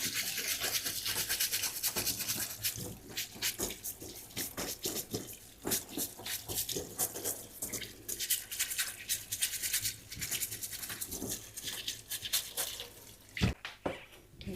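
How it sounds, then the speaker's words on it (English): Nails scrubbed with a brush under running tap water during a manicure, rapid bristle scratching strokes over a steady faucet flow, close and continuous with a brief clunk near the end. "Scrub it again under the water."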